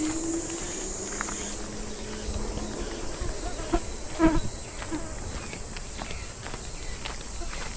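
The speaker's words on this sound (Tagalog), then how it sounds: "Ang daming lamok." High, thin insect whine hangs over the scene, steady and close, with scattered rustles and a few soft thumps beneath it.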